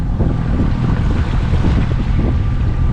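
Light wind rushes steadily over a sailboat at sea near the Balearic Islands, a constant loud whoosh of wind and microphone buffeting with faint water wash underneath.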